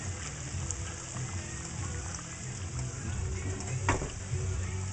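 Catfish frying in hot oil after the pot is taken off the heat, a steady soft hiss and crackle of bubbling with no voices, fairly even throughout.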